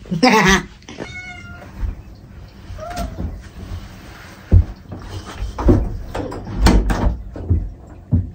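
A pet cat meows and caterwauls loudly up close as a bathroom door opens before its bath, with a sharp door bang and rattling handling noises following, plus faint human voices.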